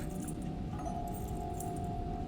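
Keys jangle in the video game Little Nightmares 3, a dense, continuous metallic rattle filling the whole moment at steady loudness over a low game ambience, with a sustained tonal hum running beneath.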